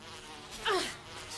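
An insect buzz rises briefly and fades in a Resident Evil game, a single short drone over a faint steady background.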